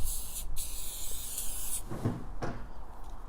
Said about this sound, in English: I'm going to spray everything.